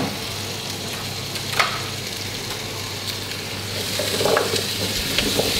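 Butternut squash and leek sizzle in butter in a pan, a steady close crackling fry with a few sharper pops and spits and a brief louder flare near the end, no voices.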